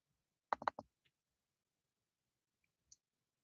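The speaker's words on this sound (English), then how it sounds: "left click twice." A computer mouse gives a few crisp, close clicks in a quick cluster, followed by a faint lone click a couple of seconds later in otherwise quiet surroundings.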